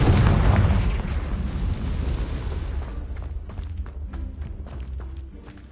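Confringo spell explosion in a Harry Potter video game: a heavy, loud booming blast that rumbles and decays over several seconds, followed by faint crackling debris ticks.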